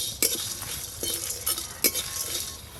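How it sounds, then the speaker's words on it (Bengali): Whole spices for mutton biryani (cardamom, cinnamon, star anise, mace, nutmeg, cumin, dried chillies, black cardamom) fry in a pan with a soft, steady hiss, broken by occasional spoon scrapes and light metal clinks. "এই যে মশলা ভাজা করছি"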